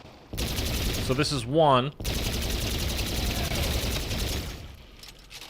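A gunfire barrage in the video game Attack of the Radioactive Thing, with rapid machine-gun bursts in loud sustained volleys. A brief warbling effect cuts in before the firing resumes and then fades, while someone talks briefly over it.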